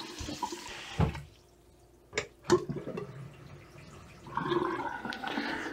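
Water from a newly installed Moen bathroom sink faucet, gushing and splashing into the basin in short bursts as it is turned on and off, then running again more steadily at the end, fairly close.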